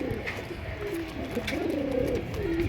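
Racer Giribaz and fancy pigeons coo in soft, overlapping murmurs, a steady low burble with a few brief higher notes, close by and continuous with no talking.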